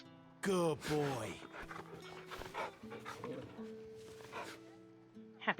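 A dog in a video game pants and whimpers close by, with a few loud yelping breaths at the start followed by softer rhythmic panting over sustained background music tones.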